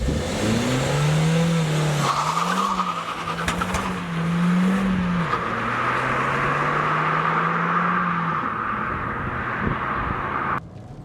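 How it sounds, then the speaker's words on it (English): A 2018 Suzuki Swift Sport's engine and exhaust drone steadily while driving, rising and easing with throttle through several gear changes, heard from inside the car, moderately loud and without talk. "the car doesn't sound overly sporty and the engine and exhaust note isn't quite as spicy as you might have hoped"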